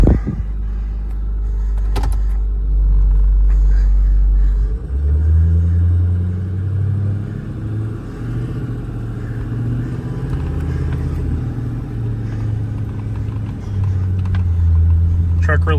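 A Ford F550 bucket truck with a 45-foot articulating and telescopic boom idles cold, not yet at operating temperature, giving a steady low engine rumble that swells slightly near the start and holds throughout.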